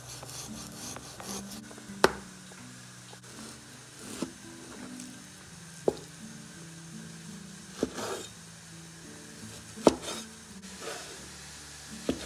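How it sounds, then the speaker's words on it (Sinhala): Fish being cut into pieces with a knife for a Sri Lankan fish curry, a quiet scraping rasp of the blade with a few sharp chops at irregular intervals, under steady low background music and no talk. "දැන් අපි මේ මාළු ටික කපාගමු"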